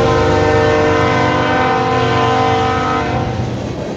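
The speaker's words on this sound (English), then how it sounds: "There's a big train in the background, of course." A long freight train rolls steadily past nearby, its horn blaring in sustained chords throughout before easing off near the end; no one speaks.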